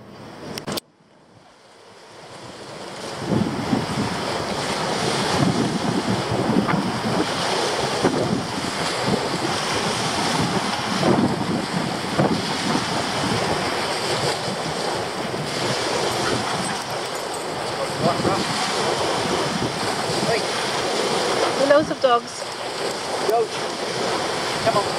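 Sea surf and gusty wind at the shore in Leigh, a broad steady wash of breaking waves with microphone buffeting that runs continuously from a quiet start.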